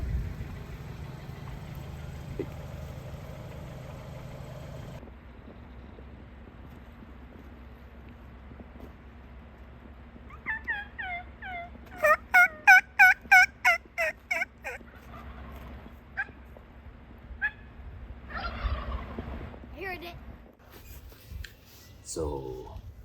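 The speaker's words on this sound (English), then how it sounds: "there are turkeys all over the place. There's like a whole group of toms just strutting out here in the meadow" Wild turkey toms in a meadow gobble in a rapid, loud burst of rattling calls, with scattered further gobbles after it, over a low idling engine hum and a person talking.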